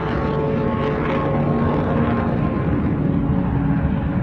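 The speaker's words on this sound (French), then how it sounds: "Le vieux 737 est bruyant et les vibrations sont importantes" Loud, continuous low roar and rumble inside the cabin of a noisy old Boeing 737 airliner of Aloha Airlines in flight, with heavy vibration and a steady droning hum, no voices.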